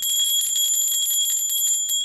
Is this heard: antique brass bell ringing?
yes